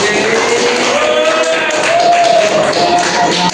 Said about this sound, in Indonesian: beri tepuk tangan terlebih dahulu